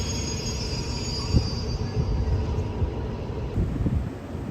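Special freight train 986 passes at Bang Sue junction in Thailand with a steady rumble of rolling wagons, clattering wheels and high squealing tones, close and continuous throughout.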